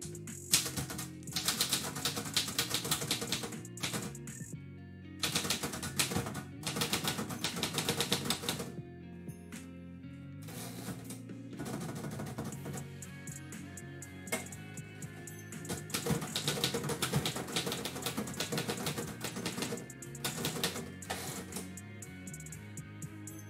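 Manual typewriter typed continuously during a live typewriter poetry session, with dense bursts of key strikes separated by short pauses and occasional carriage movement, close and fairly loud with no talking.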